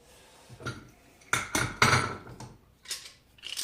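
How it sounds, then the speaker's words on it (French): Metal clamp being tightened onto a leather strip that protects a knife, giving a run of sharp knocks and clinks close by, with the loudest strikes clustered in the middle and a couple more near the end. "je vais venir serrer mon serre-joint sur ma canne en cuir"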